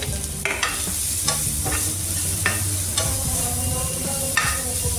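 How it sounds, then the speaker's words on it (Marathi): Grated cabbage fries in a pan with a steady close sizzle, while a spoon stirs and scrapes in short strokes roughly once a second. A low hum sits underneath and no one speaks. "आणि यामध्ये आता आपण किसलेली पत्ता गोबी थोडीशी फ्राय करून घेणार आहोत।"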